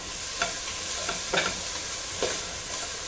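Onions and celery cooking in a soup pot give a low, steady sizzle with a few soft stirring scrapes, close by and without any talking.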